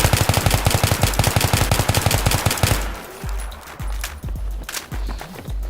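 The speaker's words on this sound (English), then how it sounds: "Now we're going to do burst firing with the M16A3 while not controlling the recoil." M16A3 rifle in a video game firing rapid, evenly spaced shots for nearly three seconds, loud and close, followed by a quieter stretch with a few scattered bursts and distant pops.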